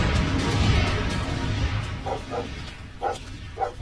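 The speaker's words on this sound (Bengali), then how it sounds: "এই কুকুরের আওয়াজ আসছে কোথা থেকে?" Several distant barks from a pack of cartoon dogs ring out in short bursts over a rumbling, noisy background, coming irregularly toward the end.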